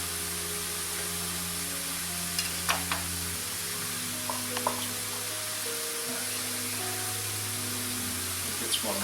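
Mushrooms fry in a pan for beef stroganoff, giving a steady broadband sizzle throughout with a few soft clinks and stirring taps, and no talk.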